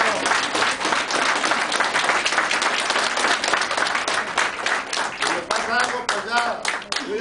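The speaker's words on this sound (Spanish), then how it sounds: "Un aplauso." A crowd at a political event at the PRI in Rosarito claps and applauds loudly and continuously, dense and steady throughout, with a voice briefly rising near the end.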